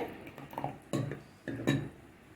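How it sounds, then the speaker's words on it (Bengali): Sour yogurt stirred and whisked with a little milk in a bowl, heard as a few sharp utensil clinks and scrapes against the dish among quieter stirring noises. "দিয়ে বেশ ভালো করে নাড়তে থাকবো অনবরত ফেটিয়ে নেওয়া হচ্ছে"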